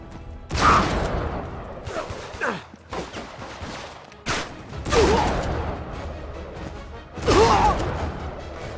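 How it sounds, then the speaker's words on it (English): Grenade explosions in Uncharted 3: Drake's Deception, a series of loud booming blasts and crashes spaced a couple of seconds apart, each with a sharp onset and rumbling decay amid combat noise. "Grenade!"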